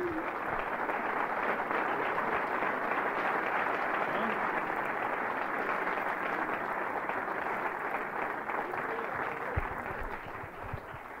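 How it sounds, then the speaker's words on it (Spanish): A church congregation claps together in sustained, dense applause at full volume, a steady roar of hands that holds for the whole stretch without a break. "Démosle un aplauso al Señor."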